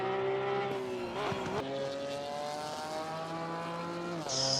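A GT race car's engine drones steadily on the track, its pitch dipping and climbing through gear changes, loud and continuous with no talk.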